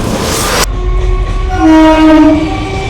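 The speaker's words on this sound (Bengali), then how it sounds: "তো চলো ট্রেনটা ধরে নেওয়া যাক" A train horn blares loud and close, then gives way to rumbling rail noise with sustained, horn-like tones from a train near Naihati.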